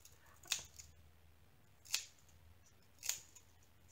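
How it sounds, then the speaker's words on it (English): Scissors snipping sticker paper into pieces: three crisp, close snips spaced about a second and a half apart, each a quick sharp click over a quiet room background. "sticker paper to hold on to when I cut it into pieces"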